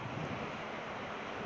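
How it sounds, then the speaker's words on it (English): Ocean waves crashing on the beach at Fenwick Island, Delaware, a steady, loud, broad wash of surf mixed with wind noise, with no voices. "I didn't really try to speak because I don't think I would have been heard above the crashing of those waves."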